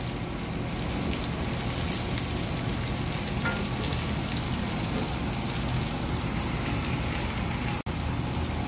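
Onion fries in oil with browned garlic, giving a loud, constant crackling sizzle like heavy rain, broken by a sharp momentary cut near the end.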